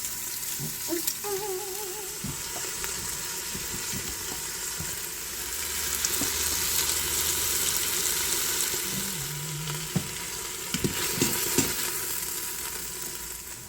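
Meat browns in a pot, giving a steady, close sizzle and crackle of frying that runs the whole time, with occasional clinks and stirring noises and no talking.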